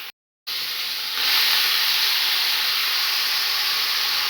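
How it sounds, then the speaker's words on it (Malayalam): Chopped green chilli, onion and beetroot sautéing in a pan, a steady loud hiss and sizzle after a brief silent gap at the start, with no voices. "അരിഞ്ഞു വെച്ചിരിക്കുന്ന പച്ചമുളക് സവാള ബീറ്റ്റൂട്ട് ഒന്ന് വഴറ്റാം"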